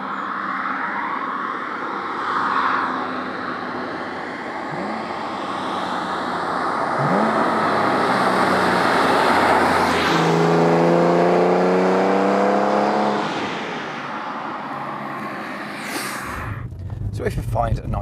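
A Porsche 911 engine rises and falls while accelerating on an open road, its rising harmonic whine swelling loudly around the middle before easing off, with a brief burst of noise near the end.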